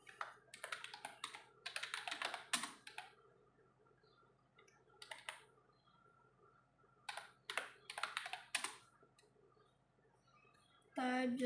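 Bursts of typing on a computer keyboard during an Adobe Illustrator type-tool lesson, with several clustered runs of clicking keystrokes separated by quieter pauses, followed by a brief louder sound at the end.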